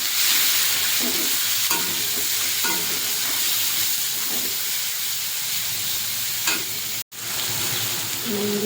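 Chopped onions fry in hot oil with black cumin in a wok, giving a close, steady sizzling hiss broken by occasional stirring scrapes and clinks, with a brief dropout near the end.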